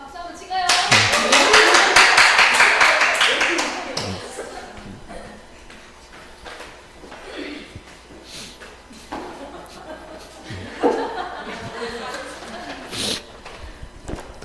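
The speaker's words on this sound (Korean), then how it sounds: "박수 한번 치가요." Students clapping in a civil law lecture classroom, a loud burst of crowd clapping that fades within a few seconds, followed by scattered claps, chuckles and talk.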